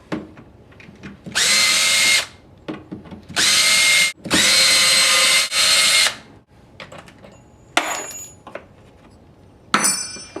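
Cordless power drill backing screws out of old door latch strike plates, three loud whirring bursts of a second or two each, close, followed by metallic clinks of the hardware coming off.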